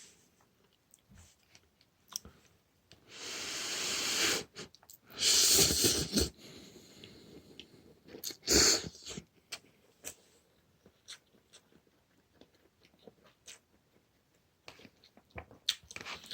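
Crunchy bites and chewing of anchovy-flavoured rice noodles, up close and fairly quiet, with a few louder crunching bursts between soft mouth sounds and breathing, and no talk.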